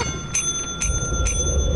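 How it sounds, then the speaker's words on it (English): A small bell in a video game dings three times at an even, quick pace to sell items, each strike bright and ringing over a low background rumble. "you need to ring the bell to sell the items"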